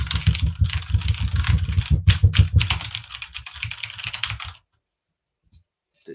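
Rapid clicky keystrokes on a computer keyboard, a dense run of close, crisp taps for about four and a half seconds before stopping abruptly into silence.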